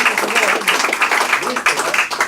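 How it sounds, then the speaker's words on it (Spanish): An audience at a book presentation applauds, a dense crackle of many hands clapping close and loud, with voices mixed in underneath. "merece un aplauso cerrado para ellos dos"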